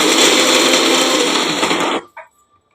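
A blender grinds cashews, raisins and seeds into a paste, a loud, steady whirring roar that runs for about two seconds, then cuts off abruptly, with a brief clatter as the motor stops.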